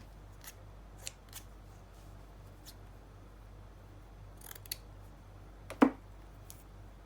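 Scissors snip through fabric while handmade ruffles are being cut: a handful of quiet, crisp single snips spread over several seconds, with one sharper, louder cut near the end against a near-silent room.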